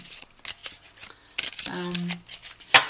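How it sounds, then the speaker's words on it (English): Quick riffling snaps of a stiff new deck of cards being shuffled, in short bursts close to the microphone, with a voice talking around them. "when I first got the deck, it was quite hard work shuffling"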